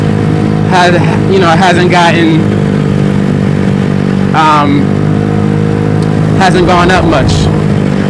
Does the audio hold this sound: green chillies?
no